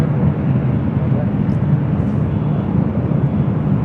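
An airliner taking off on runway 24 left at LAX, a steady, loud jet engine roar filling the whole stretch with broadband rumble, no distinct voices over it.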